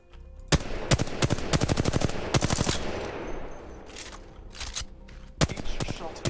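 Rapid automatic gunfire from Apex Legends rattles out in loud bursts of sharp cracks, pausing briefly between volleys, then picks up again with a few scattered shots toward the end.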